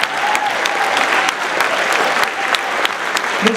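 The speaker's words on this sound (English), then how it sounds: "a big round of applause for all our performers this evening" A high school winter concert audience applauds the performers. The clapping is dense and steady and fills the room, close and loud, with a few sharper individual claps standing out.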